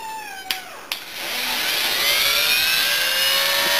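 A die grinder running at minimum RPM, used for porting the exhaust of a Blaster cylinder, clicks twice and then spins up into a steady, fairly loud whine with rising tones, with no talking.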